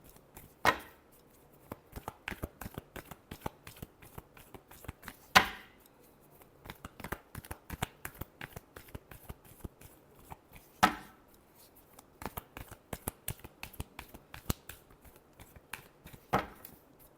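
A deck of tarot cards is shuffled up close, giving a quiet, irregular run of soft riffles and taps, with a few sharper snaps standing out now and then.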